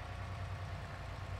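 A fire truck engine idles in a farming video game, a steady low drone with a faint rhythmic pulse, quiet and constant throughout, with no voices.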